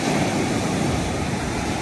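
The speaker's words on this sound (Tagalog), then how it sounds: "Lakas ang alon, no?" Loud, constant roar of strong Pacific Ocean waves crashing nearby at a viewdeck in Dingalan, Aurora, dense and rumbling with wind noise, no pauses.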